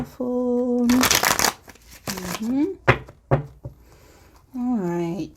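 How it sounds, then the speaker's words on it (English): Tarot cards riffle-shuffle in quick fluttering bursts, twice in a row and then again briefly, between stretches of a person talking. "Shuffle."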